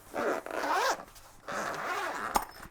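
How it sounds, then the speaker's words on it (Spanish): A zipper on a sturdy cordura-type fabric case for a Kaiweets KT360A laser level is pulled open in two close, rasping strokes separated by a short pause. "la apertura bajo cremallera"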